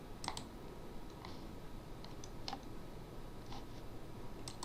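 Light, scattered key clicks from typing on a computer keyboard, a few brief bursts spread over several seconds, faint and near, over a steady low background hum.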